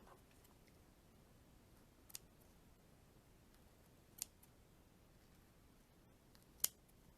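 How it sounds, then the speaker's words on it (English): Scissors snip loose threads off a sewn fabric baby dirndl, three brief, faint, sharp clicks spaced a couple of seconds apart in a quiet room. "here's a couple crazy loose threads. I forgot to snip them off, so let's go through and do that."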